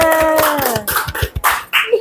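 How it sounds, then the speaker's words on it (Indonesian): A group of students claps their hands together in a brisk, rhythmic round of applause, following a voice and mixing with chatter in a classroom. "Coba tepuk tangan dulu kelompok 2 tadi."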